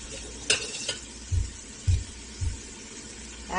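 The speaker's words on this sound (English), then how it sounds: "Now that it's starting to simmer, I'm going to add my shallots. Stir them up a bit." Shallots stirred into simmering tomato soup in a pot, giving a few soft, low spoon scrapes and thuds spaced about half a second apart, with light clinks near the start and a faint sizzle underneath.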